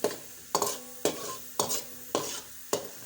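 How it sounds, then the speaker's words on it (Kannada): Pepper, mustard seeds and cumin frying together in a pan, with a loud sizzle cut by about six regular scraping strokes of a spoon. "ಜೊತೆಯಲ್ಲೇ ಮೆಣಸು, ಸಾಸಿವೆ, ಜೀರಿಗೆ ಇದು ಮೂರನ್ನು ಒಟ್ಟಿಗೆ ಹಾಕ್ತಾ ಇದ್ದೀನಿ. ಇದು ಸ್ವಲ್ಪ ಫ್ರೈ ಮಾಡೋಣ."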